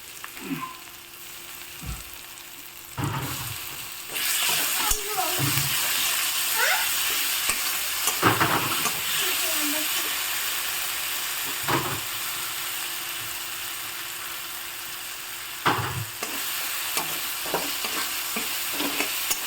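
Garlic, cashews and tomato frying in a pan while being stirred, a continuous close sizzle broken by several scraping stirs of a utensil against the pan.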